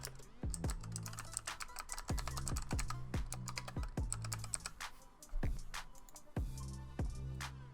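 Keys on a computer keyboard clatter in quick, uneven bursts as an email address and password are typed into a login form, the close clicks and thumps broken by short pauses.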